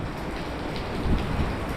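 Steady rain pours on a city street in Macau, a dense hiss of drops on pavement with a low rumble underneath, continuous and close with no voices.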